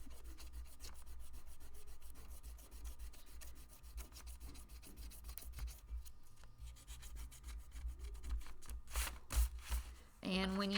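An eraser rubs chalk pastel off paper in quick, steady back-and-forth strokes, faint and close, with a few louder scrubs near the end.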